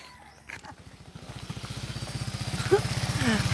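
A motorcycle engine on a cemented mountain road thrums with a steady pulsing beat and slowly grows louder as the bike climbs, with brief wind and road noise on top.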